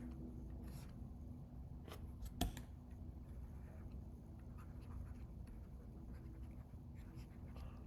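Pen or pencil scratches briefly across paper as a number is written by hand while working a math contest problem. The strokes are faint and close, with a few short scrapes over quiet room hiss.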